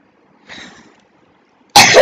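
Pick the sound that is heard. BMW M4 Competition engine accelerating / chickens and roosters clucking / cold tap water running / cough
cough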